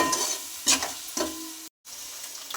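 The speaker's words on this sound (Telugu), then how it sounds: "బిర్యానీ మసాలా, సాల్ట్ మొత్తం వేసి కలుపుకోవాలి బాగా." Biryani masala and salt are stirred into an egg pulao frying in a pot, giving a sizzle with a few distinct scrapes of a spoon before a brief gap.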